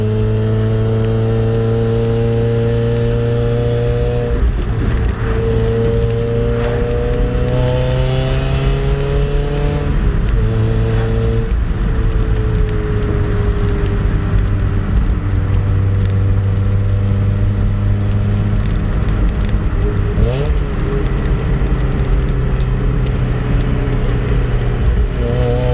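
A 1.8-litre Mazda Miata with a cheap header, Borla dual exhaust and Magnaflow resonator drones loud and close through a continuous drive, pitch climbing under acceleration and dropping at several gear changes.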